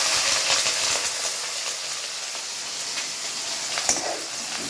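Onions fry in a little oil in a pan, a dense continuous sizzle with scattered pops and one small clatter near the end, close up and without speech.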